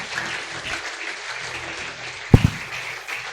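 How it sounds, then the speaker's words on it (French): A church congregation applauds in a soft, steady patter of many hands, with a sharper burst of claps standing out near the end. "Merci d'acclamer le Seigneur Jésus."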